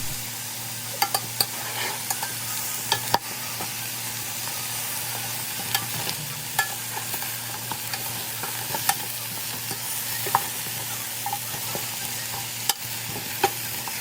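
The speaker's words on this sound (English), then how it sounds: "Then we're just going to mix the vegetables around." Sweet potatoes and vegetables sauté in curry seasoning in a pot, giving a steady close sizzle. Scattered scraping clicks from stirring break through it, with no one talking.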